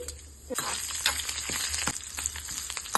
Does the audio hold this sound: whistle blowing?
no